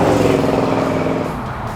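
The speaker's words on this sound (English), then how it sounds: "You just nail the thing and it just accelerates like a bullet." A muscle car with a 440 cubic inch engine accelerates hard, giving a loud, close engine roar that swells briefly and then begins to fade.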